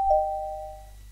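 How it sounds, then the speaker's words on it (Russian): A doorbell from MrCrayfish's furniture mod in Minecraft, crafted from a note block, wood and a button, gives a single clear bell tone that rings out and slowly fades over about a second. "Дверной звонок."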